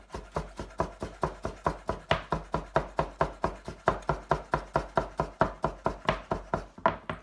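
Rapid, steady knife chops on a cutting board while vegetables are prepared for a goose curry, around two dozen sharp near strikes in an even rhythm with no talking.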